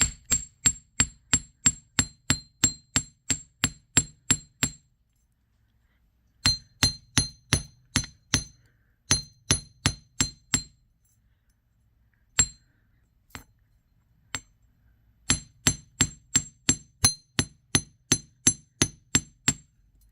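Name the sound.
hammering jewelry wire for earrings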